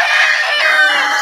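Fighting cocks at a gamefowl gathering give a loud, close, drawn-out crow, one strained call that fills the short moment.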